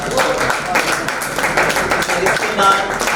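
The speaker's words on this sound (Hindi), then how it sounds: "तालियां बजा दीजिए साहब।" Crowd clapping for a young girl performer at a live folk-culture festival stage, a dense, steady patter of applause lasting the full moment with a voice faintly mixed in.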